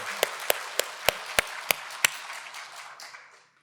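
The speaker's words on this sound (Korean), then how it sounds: "박수." Applause from a church congregation, a few sharp distinct claps over a soft wash of clapping that fades out over a few seconds, fairly quiet and with no talk over it.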